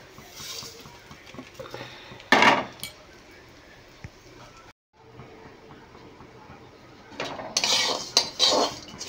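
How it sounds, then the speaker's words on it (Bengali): Chia seeds and white sesame seeds stir-fried in a pan over a very low gas flame, a utensil scraping and clinking against the metal in a few sharp bursts between quieter stretches of soft rustling. "বন্ধুরা শেষে আমি চিয়া সিড ও সাদা তিল দিয়ে আরও কিছুক্ষণ ভেজে নেব।"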